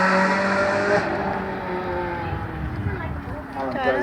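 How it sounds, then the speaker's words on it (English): A red Ferrari 360 sports car with a V8 engine revs as it drives past at a sports car festival in Bournemouth, the engine tone rising and falling under a commentator's voice. "the red Ferrari just passing the triangle"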